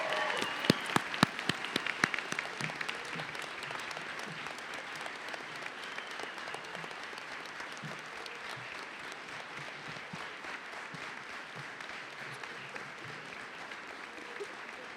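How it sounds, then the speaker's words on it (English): An audience at a fall 2019 college graduation ceremony applauds steadily for the graduates. Crisp, close claps open the stretch, then the applause settles into a sustained wash of many hands from a large crowd in a big hall. "Let's give them a round of applause."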